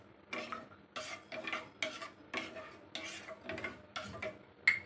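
Coffee with sugar simmering in a pan while a spoon stirs it, giving quiet, regular scraping strokes about twice a second, close by with a soft bubbling hiss between them.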